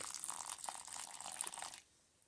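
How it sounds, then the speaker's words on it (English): Water pours and splashes steadily onto potted lemon plants for about two seconds, close by, then stops, leaving quiet background. "Gave them each some water."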